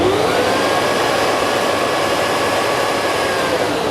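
A workshop vacuum cleaner started by remote control runs loud and close, a steady whining motor roar with a high tonal hum holding constant from start to finish, with no talk.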